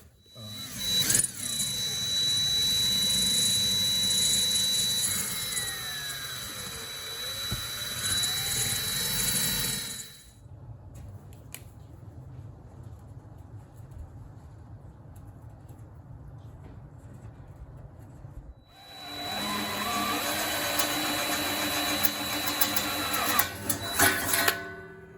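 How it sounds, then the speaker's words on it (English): A drill boring holes through a sink being made into a wood stove for a hot tent: two long, loud bursts of whining motor with shifting pitch, separated by a quieter pause of low rumbling. "I got all the holes drilled here."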